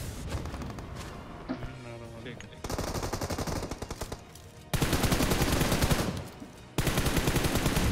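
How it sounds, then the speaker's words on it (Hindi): Automatic weapon fire in a battle royale shooter game, long rapid bursts of shots separated by brief pauses, loud and close, with some lighter background activity between volleys. "मुझे सामने से फायरिंग की साउंड आ रही थी"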